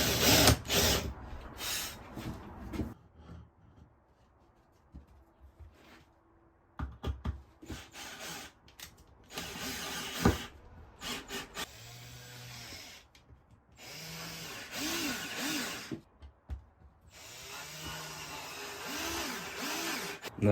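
A power drill bores a tiny pilot hole for a screw into wood on a DIY mirror project, sounding as several short, close whirring bursts separated by quiet pauses and rubbing handling noises.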